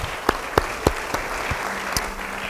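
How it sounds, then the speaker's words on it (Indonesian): In a church, a handful of distinct, separate hand claps ring out at an irregular pace with brief gaps between them, clear and close, rather than a full roar of applause. "Beri tepuk tangan bagi dia."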